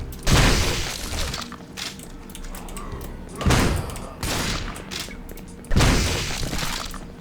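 Super shotgun blasts in the 3D-rendered Doom game, three loud booming shots a few seconds apart, each followed by a long roaring decay over constant in-game noise.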